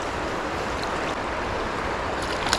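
Steady broadband rush of creek water flowing through a trout stream, constant and close, with no talk over it.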